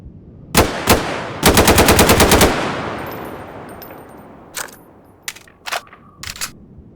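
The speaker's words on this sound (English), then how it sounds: "These guns are from like what, Counter-Strike Source, I think." Counter-Strike Source guns fire in a video game: two sharp single shots, then a fast automatic burst of about eight rounds, followed by a few scattered shots with ringing echoes.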